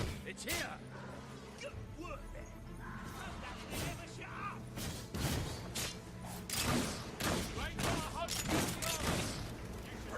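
Rapid volleys of gunfire from the Fable III video game, loud and dense, with thuds, crashes and mechanical clatter layered over a constant game soundtrack, while voices talk over the action.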